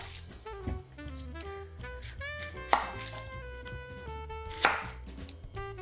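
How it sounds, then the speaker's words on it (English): Knife chopping red onion, zucchini, sweet peppers and eggplant on a board, irregular crisp taps with a few louder sharp cuts, close up under a faint background melody. "So now we have a whole pile of vegetables to chop"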